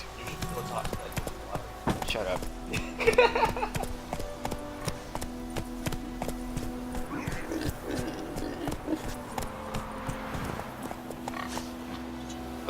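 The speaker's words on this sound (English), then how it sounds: "as I freaking gallop on this horse" Rhythmic hooves clip-clop at a gallop under a steady background tone in The Witcher 3 video game, with someone talking over parts of it.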